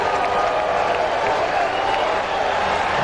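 Baseball fans at a Red Sox game against the Angels in 1995 cheer, clap and make noise in the stands. The roar of the crowd holds steady and dense, with a broadcaster's voice running underneath it.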